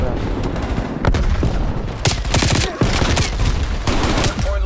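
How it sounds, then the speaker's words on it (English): Dense gunfire and explosions in Call of Duty: Black Ops Cold War Hardpoint match, loud continuous volleys and sharp bangs filling the moment, with a frag grenade thrown amid the chaos. "Throwing frag."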